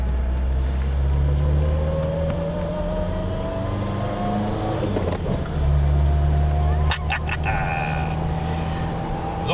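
A car drives through a curve in third gear, its engine a steady close drone with a faint rising whine, under low in-car talk.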